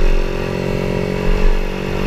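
A tuned Honda GTR moped's small engine revs loud and close with a buzzy, steady drone. The throttle swells briefly near the end.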